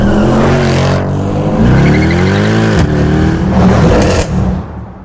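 A Mercedes-AMG car accelerates hard with a loud, close engine roar climbing through the revs, a brief shift dip, then rising again before fading out.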